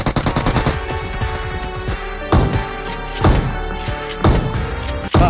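Gunfire in the PUBG video game: rapid automatic bursts and heavy single shots with booming impacts, loud and close, firing in several volleys across the clip without speech.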